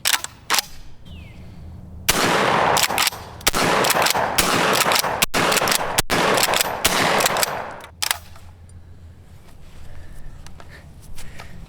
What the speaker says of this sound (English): 6 shots loaded up. Let's shoot them off, see how she goes.